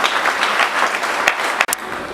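A church congregation claps steadily through a testimony service, a dense, continuous patter of many hands at close range with a few sharper bursts near the end.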